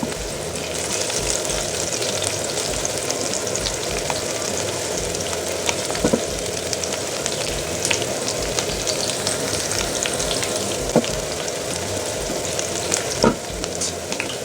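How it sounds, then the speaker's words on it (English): Food sizzling steadily in a hot pan, frying to brown, a loud continuous crackle and hiss up close with occasional faint stirring clicks and no voices over it. "you saute for about 2 minutes. You have to make sure that they don't burn. We just fry it to brownish."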